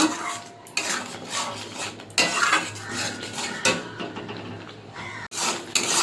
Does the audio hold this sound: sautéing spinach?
yes